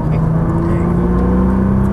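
A Nissan GT-R accelerates on a race track during a track day, its engine a steady, close, loud drone held throughout, with a voice talking over it.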